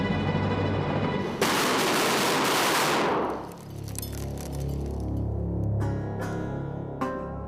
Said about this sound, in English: If the barrels survived the blast without splitting, they passed.